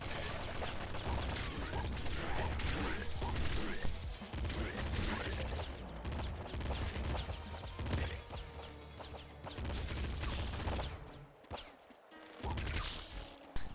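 A pop gun fires in the top-down shooter Nuclear Throne, producing a dense, continuous stream of rapid popping shots and clattering impacts with brief pauses, loud and busy throughout.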